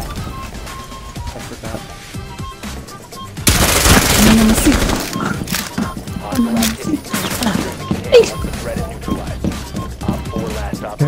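Video game gunfire in a tactical shooter: scattered single shots, then a loud sustained burst of automatic fire, followed by intermittent shots and impacts, with players talking over it.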